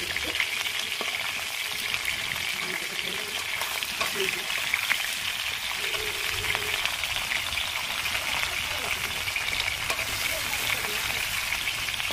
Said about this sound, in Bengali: এই যে রান্না চলছে, হয়েছে পটল ভাজা